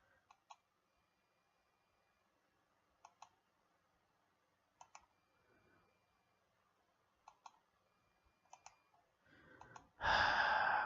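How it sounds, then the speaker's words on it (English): Faint computer mouse clicks come in quick pairs at irregular intervals while Endless Space 2 is played on a PC, quiet and sparse, ending in a sudden louder breathy burst. "Clicking, clicking, clicking"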